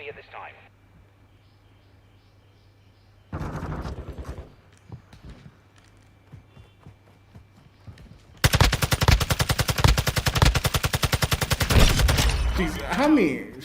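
Rapid bursts of TAQ-56 rifle fire in Call of Duty Modern Warfare II ring out loud and close, a long sustained volley after a shorter burst and scattered shots, with a voice talking briefly earlier.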